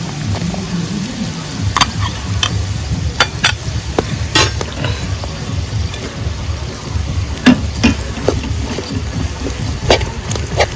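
Jaggery sizzling as it is stirred into fried bitter gourd pieces in a pan, with steady frying crackle, repeated scraping strokes and sharp clinks of a utensil against the pan, all close and without talk.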